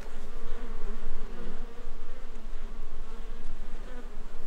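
Honeybees buzz around a beekeeper working slowly without protective clothing in a European forest, a steady, dense droning hum of many insects close by, swelling and fading slightly with no talk.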